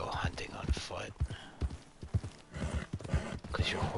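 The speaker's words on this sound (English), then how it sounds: "Because your horse makes too much noise." Horse hooves in the video game Red Dead Redemption 2 Online clip-clop in a steady rhythmic gait, close and clear, with faint voice chatter mixed in.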